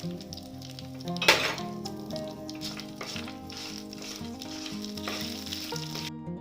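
Cashews fry with curry leaves in a pan for tamarind rice, giving a bright sizzle, one sharp clink early on and light stirring. Steady background music plays underneath.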